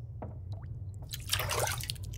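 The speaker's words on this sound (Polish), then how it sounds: "Wodę z kibla bierę, no po prostu." Water is collected from a toilet in The Long Dark video game: a few quick dripping plinks come first, then a fuller liquid splash and trickle swells and fades over a steady low hum.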